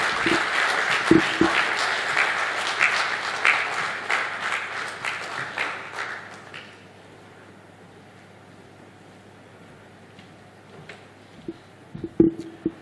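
Conference audience at a mentors' event breaks into applause, loud clapping for about six seconds that then fades into quiet room tone with a few stray bumps near the end.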